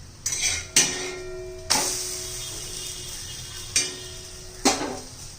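Green pea snack being flipped in a pan, with sharp metal spatula clinks and scrapes against the pan at irregular intervals over a quiet background, no talking.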